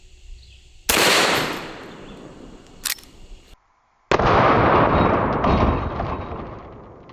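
A .44 Magnum revolver fires a 180-grain hollow point round at a bulletproof shield, one sharp loud blast followed by a brief lull, then a second loud report with a decaying ring.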